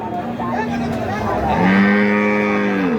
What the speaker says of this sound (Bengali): জার্সি গরু